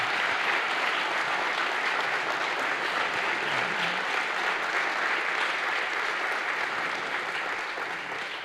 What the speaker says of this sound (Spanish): Bendiga con un fuerte aplauso a Jesús por esta palabra que Él nos da